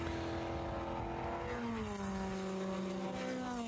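Race cars lapping at Watkins Glen to warm their tires, the engines droning in steady tones that slide downward as cars pass at a distance, with a continuous mixed roar underneath.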